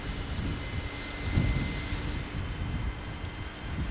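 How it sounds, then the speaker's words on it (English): Jet engines of an iniBuilds Airbus A310 in Microsoft Flight Simulator 2020, heard from outside the aircraft: a steady, loud, broadband roar with a constant whine that swells briefly partway through, with no talking. "Let's switch to the outside and listen to the beautiful engine sounds."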